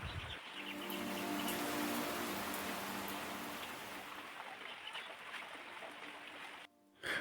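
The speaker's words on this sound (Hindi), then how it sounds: "धुआंधार बारिश के साथ" A heavy monsoon-style downpour pours at a home on a stormy morning, a dense, loud, steady hiss of rain that holds for several seconds before briefly dropping off near the end.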